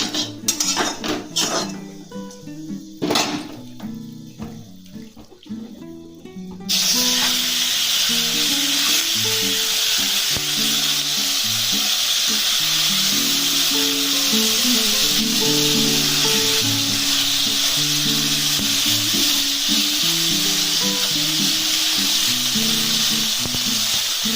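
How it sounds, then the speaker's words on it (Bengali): Amodi fish slid into hot oil seasoned with nigella seeds, with pan and utensil clinks at first, then a sudden loud, continuous sizzle that holds steady for the rest of the clip. "এবার তেলের মধ্যে আমি মাছগুলো দিয়ে আস্তে করে পাঠিয়ে দেবো"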